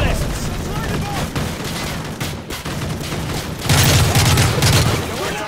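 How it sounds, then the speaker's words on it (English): Machine gun fire in the Call of Duty: Modern Warfare 3 mission Return To Sender: dense, continuous battle noise with rapid bursts that grow heavier and louder toward the end, mixed with booms and shouted voices. "Those MGs are tearing us apart!"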